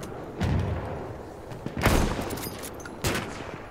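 Three loud, sharp sniper rifle shots from Battlefield 1, fired at irregular intervals by a semi-automatic rifle, each ending in a short booming echo over quiet game ambience.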